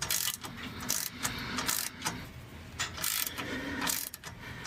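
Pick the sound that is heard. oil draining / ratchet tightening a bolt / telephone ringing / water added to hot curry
ratchet tightening a bolt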